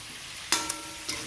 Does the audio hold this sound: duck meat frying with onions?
yes